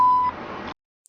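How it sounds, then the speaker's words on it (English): An automated phone system emits a single steady electronic beep before recording, a clean tone lasting under half a second, then a brief low hiss that cuts to silence. "Speak clearly after the beep."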